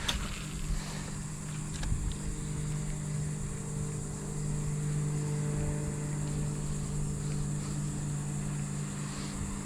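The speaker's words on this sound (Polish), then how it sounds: "łódź za łodzią, łódź za łodzią. Takie fale robią." Steady low engine drone of motorboats out on the water, constant and moderately distant, with faint splashes and no talking.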